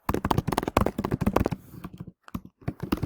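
Rapid typing on a computer keyboard, bursts of quick clicking keystrokes with short pauses between runs.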